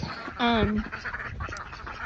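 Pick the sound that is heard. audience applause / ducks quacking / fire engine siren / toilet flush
ducks quacking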